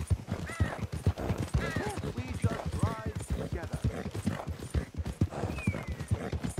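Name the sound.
horse hooves while riding, from video game Red Dead Redemption 2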